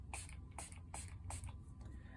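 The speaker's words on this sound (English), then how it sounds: "Just spray it one more time" A spray paint can hisses out a white mist in four or five short bursts, each a quiet, airy hiss with brief gaps between them, repeated in a loose rhythm.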